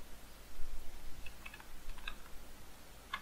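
Faint typing on a computer keyboard while entering code, a few scattered soft keystrokes and clicks over a low background hum.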